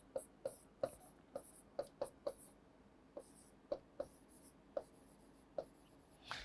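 Pen or chalk strokes from working a physics problem on a board or paper, about fourteen short, crisp scratches in an uneven rhythm, close and fairly quiet, with no talking.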